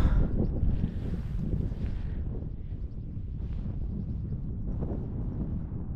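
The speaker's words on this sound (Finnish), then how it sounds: "Tunturissa vähän tuulee." Steady, blustery wind on an open fell in Urho Kekkonen National Park in Lapland, buffeting the microphone with a loud low roar that continues throughout.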